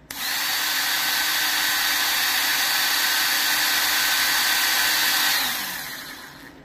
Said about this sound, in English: that horrifying fan noise in the background is this thing thinking that it's charging